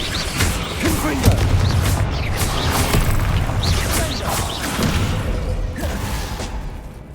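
Repeated blasts of the Confringo explosive spell in Hogwarts Legacy, booming bursts with whooshes over a steady battle din.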